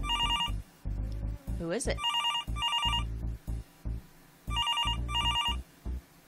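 An old-style telephone bell rings in a video game, loud and close, in several repeated bursts with pauses between them, while someone speaks in the gaps and over the rings.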